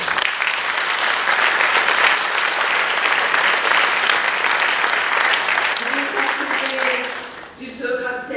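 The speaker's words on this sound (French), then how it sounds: "on peut les applaudir." Sustained applause from an audience at a testimony event, dense and steady, tapering off near the end as a voice begins speaking.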